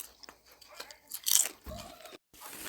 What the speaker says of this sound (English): Here's another chip. Take a bite.